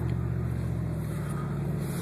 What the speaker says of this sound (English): my exhaust on my truck is a little bit loud